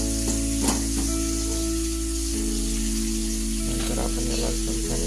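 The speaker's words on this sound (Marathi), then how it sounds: "नंतर आपण याला चमच्याने परतून घ्यायचं, मिक्स करून घ्यायचं आहे." Fenugreek leaves sauté in hot oil, making a loud, constant sizzle while a spoon stirs and scrapes the pan with a few sharper clatters near the start and end.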